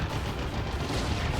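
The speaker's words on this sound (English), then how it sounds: "And it is a D-cannon coming up for Lindonin here" Eldar D-cannon artillery firing in the video game Dawn of War 2, a dense rumbling barrage of booms and blasts heard at a moderate level, with no talking over it.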